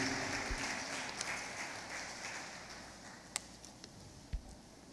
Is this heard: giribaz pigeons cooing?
no